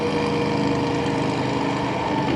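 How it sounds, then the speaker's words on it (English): A power drill bores a pilot hole for the vent of a cheap Chinese diesel heater. Its motor gives a steady, loud, close whine that holds at an even pitch throughout. "We are drilling a pilot hole through now"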